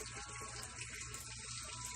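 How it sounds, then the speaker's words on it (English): Steady, faint flow of water running through a DIY moving bed filter tide machine on a pond setup, an even gushing and splashing like a tap filling a tank, continuous and unbroken throughout. "the tank's getting ready to fill up again"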